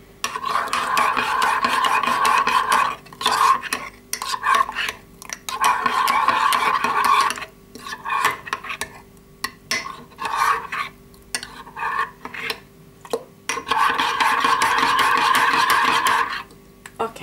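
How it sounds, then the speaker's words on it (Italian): A spoon stirs a lumpy mixture in a cup with steady, scraping rasps close to the mic. The stirring comes in bursts separated by short pauses. "perdonate questo rumore folle del cucchiaio"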